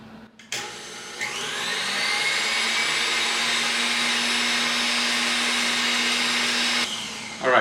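An electric mixer whips egg whites for meringue cookies, a steady high whirring drone that starts abruptly, holds evenly for several seconds, then cuts off, with no talking over it.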